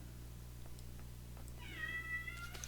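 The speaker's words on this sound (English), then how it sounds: "What on earth is wrong with the cat?" A house cat gives a single drawn-out, rising meow partway through, faint over a steady low hum, with soft scattered handling noises around it and no talking.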